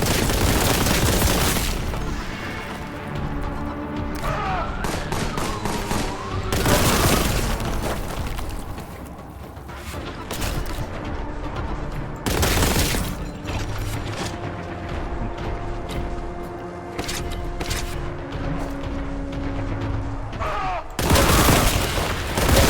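In the Warhammer 40k Boltgun video game, chaos cultists fire repeatedly at the player, loud booming blasts and rapid gunfire bursts erupting again and again amid dense, chaotic game noise.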